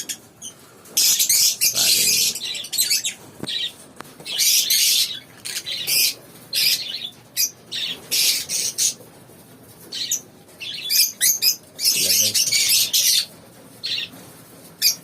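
A flock of lovebirds squawking and chattering loudly in shrill, overlapping bursts, close by, with short gaps between outbursts.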